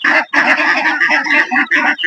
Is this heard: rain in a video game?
no